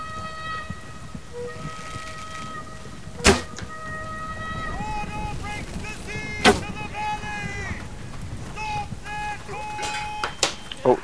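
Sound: shooting in the video game Chivalry: Medieval Warfare

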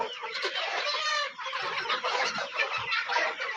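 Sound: chickens clucking, rooster and hens

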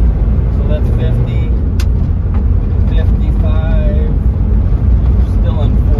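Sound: 1997 Isuzu Trooper 3.1 diesel accelerating through gears

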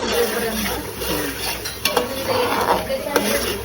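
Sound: masala being roasted and stirred in oil in a pan

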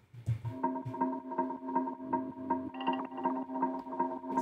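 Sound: arpeggiator synth with delay effects, Cymatics one-shot sample

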